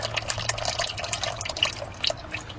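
Oil or fluid draining from a vehicle during an oil change, a continuous trickling, splashing stream with small drips and gurgles, close and moderately loud.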